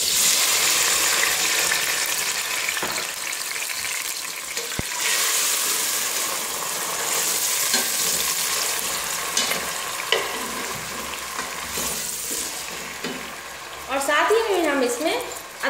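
Tomatoes and green chillies go into garlic frying in a pan while chicken handi is being cooked, raising a loud, steady sizzle with stirring and occasional clatter throughout.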